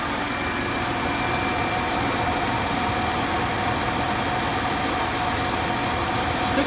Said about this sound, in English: Still got that lifter noise.